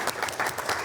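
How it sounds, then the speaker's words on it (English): An audience at a talk on the life and writing of Julia Peterkin claps for her great-granddaughters, a brief burst of rapid, moderately loud applause under a second long. "So let's give them a big round of applause."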